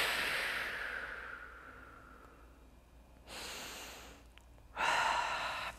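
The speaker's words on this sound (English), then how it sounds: "Take a big breath in and out." Deep breathing during a yoga twist for hip and back recovery: a long, soft exhale trails off, then two strong breathy inhales or exhales follow after a pause, close and alone.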